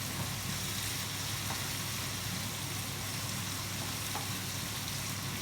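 Kokoreç with black pepper being stirred in a hot pan, giving a steady, even sizzle with soft scraping, heard alone at low volume throughout.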